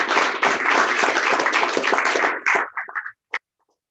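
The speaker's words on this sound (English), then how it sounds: "I'd just like another round of applause for everyone" Dense, loud applause from a crowd at an awards ceremony, sustained for a couple of seconds before breaking into a few scattered last claps and fading out.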